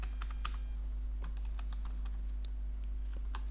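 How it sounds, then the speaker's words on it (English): Fingers type a note on a computer keyboard: quick, close, irregular key clicks in a steady run over a faint background hum. "I can click on add note and simply type my note."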